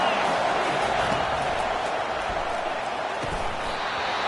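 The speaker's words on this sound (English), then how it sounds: "Decibels rising as the crowd gets behind this defense on 3rd down." A stadium crowd at a college football game between Syracuse and South Carolina roars continuously on a third down, a dense, loud wall of cheering that holds steady throughout.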